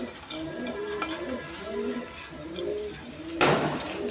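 Silver pigeons coo in soft, repeated rounds at close range, with a brief rustle near the end.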